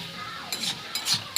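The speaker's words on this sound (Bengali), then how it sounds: "ধনেপাতা দিয়ে কিছুক্ষণ নাড়িয়ে চাড়িয়ে নিয়ে নেব।" Coriander leaves are stirred into a frying dish, giving a low steady sizzle broken by a few light scraping and clinking strokes, close and soft.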